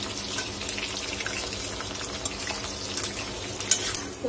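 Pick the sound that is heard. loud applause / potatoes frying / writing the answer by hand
potatoes frying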